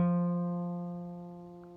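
A single open fourth string plucked by finger on an acoustic guitar rings out alone, a close, clear low note with rich overtones that decays steadily.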